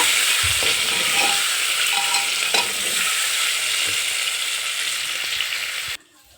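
Ingredients for egg biryani being fried and stirred in a pan, a loud steady sizzle with occasional spatula scrapes and clinks, close by and continuous, then cutting off abruptly near the end.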